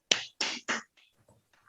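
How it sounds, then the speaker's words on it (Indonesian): A teacher leads a class clapping for themselves during a peer-teaching lesson. Three sharp, close claps are followed by faint background noise. "Oke, boleh kita kasih tepuk tangan untuk diri kita sendiri dulu?"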